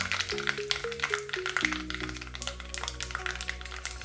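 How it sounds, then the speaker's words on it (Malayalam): Mustard seeds spluttering and popping with curry leaves sizzling in hot oil in a cheenachatti, a steady close crackle and hiss with sharp pops, no talk. "ചീനച്ചട്ടിയിൽ എണ്ണ ഒഴിച്ച് 1 ടീസ്പൂൺ കടുകിട്ട് പൊട്ടിക്കാം"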